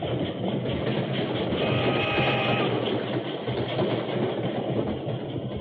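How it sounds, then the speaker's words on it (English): A heavy, continuous rumble of a steam train rolls past with a dense mechanical roar, steady and loud throughout with no voices. "His shout was lost in the rumbling of the wheels and the hissing of steam"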